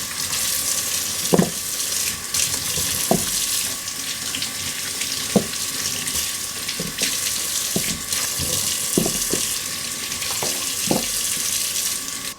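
Tap water runs steadily into a kitchen sink as fresh okra is rinsed by hand, with occasional soft knocks and splashes of the pods against the basin over a continuous hiss.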